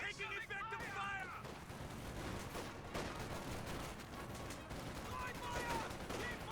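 Dense battlefield gunfire in Company of Heroes 2, a steady roll of rifle and machine-gun shots under shouted soldier voices calling out orders, moderately distant and continuous.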